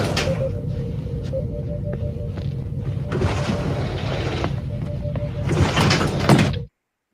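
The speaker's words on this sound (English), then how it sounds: "A turbolift door is forced open" A starship turbolift door is forced open in a radio drama: a sustained mechanical grinding and rumbling with a steady hum, surging louder near the end before cutting off abruptly, with no talk.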